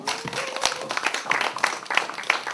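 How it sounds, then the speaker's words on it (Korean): Scattered applause from a small audience at a community welfare workers' seminar, irregular claps building into bursts, moderately close with some murmuring underneath. "유호근 사무장님 박수로 맞이하겠습니다"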